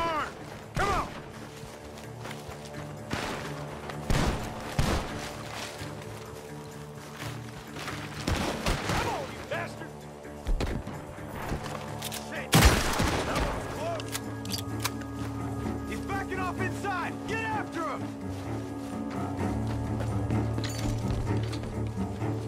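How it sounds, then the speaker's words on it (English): Gunfire cracks from a barn in Red Dead Redemption 2, sharp shots and bursts scattered through the scene, some loud and near, over game music and background hum, with voices talking in between. "The gunshots are coming from that barn."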